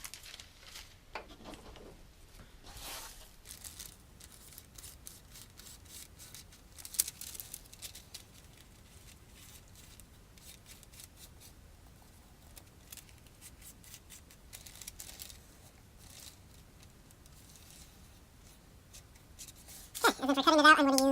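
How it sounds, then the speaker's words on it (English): Scissors snip out pieces of material for a Thor costume in quiet, irregular bursts of close crisp cutting and rustling, ending in a louder burst of noise with a voice. "And now I'm going to cut 2 of these out."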